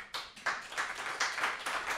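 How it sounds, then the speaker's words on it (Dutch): A few claps from an audience greeting the speakers at a bookshop talk, broken and uneven rather than full applause, moderately close. "graag een applaus voor onze sprekers"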